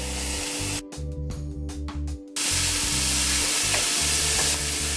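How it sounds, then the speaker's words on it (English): Garlic hitting hot oil in a pot breaks into a loud, steady sizzle and hiss after a brief dip, with kitchen hum underneath. "I'm going to go ahead and add some oil to that pot. I'm going to go ahead and add some garlic to that."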